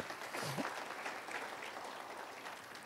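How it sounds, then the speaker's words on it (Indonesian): A congregation claps in church for Jesus, a soft, steady wash of many hands heard at a distance, with a faint tonal voice sweeping near the start. "Kasih tepuk tangan buat Tuhan Yesus"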